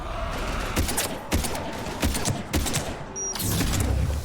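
Gunfire in the video game Mass Effect 3, a run of sharp shots in quick irregular bursts over a busy battle background, with a louder sustained roar near the end.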